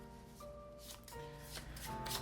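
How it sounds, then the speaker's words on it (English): A single playing card from a board game deck is shuffled back into the findings deck, a soft papery riffle of card flicks heard close up against a low background hum. "afterwards shuffle this card back into the findings deck"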